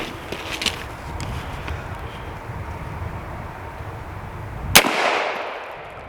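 A big gun fired at a target: one sharp, loud shot cracks out near the end, ringing off as a fading tail over steady outdoor background noise.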